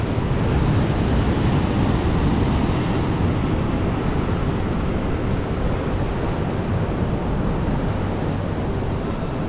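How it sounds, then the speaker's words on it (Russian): Storm waves pound a Crimean beach in a continuous, loud roar of surf, with wind noise buffeting the microphone throughout and no voices. "Волны."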